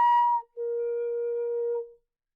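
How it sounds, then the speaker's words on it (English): Flute playing sustained high notes, a short tone then a long steady held note, clear and close with breathy onset, alone in quiet. "It is one of the highest pitched instruments in band and sounds a little like this."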